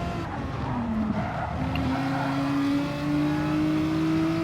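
In a racing video game on an Alsace village circuit, a car spins out with tyres squealing in long sliding tones over a steady engine drone, loud and continuous with no talk.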